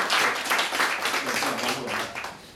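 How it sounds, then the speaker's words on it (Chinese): Audience applause at a Taichung film screening and post-screening panel welcoming a guest speaker, a dense steady wash of many hands clapping throughout, close and fairly loud. "咱用最热烈的掌声欢迎台湾第一韩国通"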